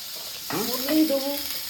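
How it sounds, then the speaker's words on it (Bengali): Onions drop into hot mustard oil and break into a brief rising sizzle that settles into a soft hiss, with faint background sound beneath. "এবার কিন্তু গরম গরম তেলে চলে যাবে পেঁয়াজ"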